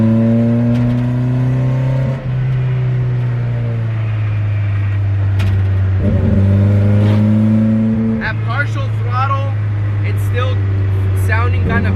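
A Honda CRX engine drones steadily while driving, roughening and breaking up under partial throttle with a faint rising rev near the end; close, in-cabin sound.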